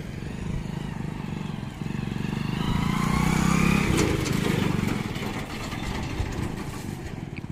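A motorcycle engine towing a bike trailer during a test runs close by, a steady putter that rises in revs for a few seconds, then eases back to a constant hum.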